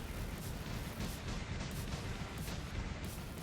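Shotguns on a robot in the War Robots video game fire very rapidly, a dense, continuous barrage of booming blasts with no pause between shots.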